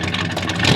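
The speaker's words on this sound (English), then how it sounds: "It does have that good V8 rumble" A V8 pickup truck engine of about 300 horsepower revving through dual exhaust, a steady loud low rumble that swells slightly toward the end.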